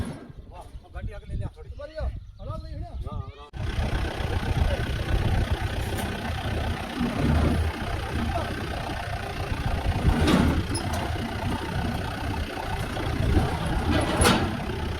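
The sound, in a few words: vehicle engine running as it is moved forward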